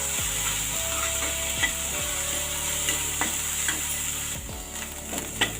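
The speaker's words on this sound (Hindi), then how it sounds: "हल्का सा इसको मुलायम करने तक भून लेते हैं।" Green chillies frying in a pan for a veg cheese macaroni masala, a continuous close sizzle with a spoon scraping and stirring at intervals, steady and unbroken, no voices.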